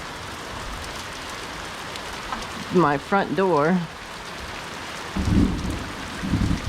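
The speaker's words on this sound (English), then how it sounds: "summer thunderstorm rain" Summer thunderstorm rain hisses steadily outside a front door, with low rumbling bursts of thunder late on; someone speaks briefly partway through.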